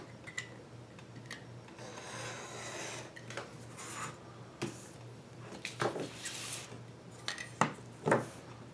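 Leather being cut out along a pattern for bracers makes soft, uneven rasping and scraping strokes, with irregular louder snips and rubs near the end, and no talking.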